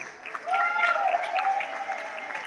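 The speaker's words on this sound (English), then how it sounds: "I want everyone to give a round of applause to the Great Parade Committee" An audience gives applause for a parade committee, the clapping swelling after a quiet start and holding steady, with tonal sounds running through the middle.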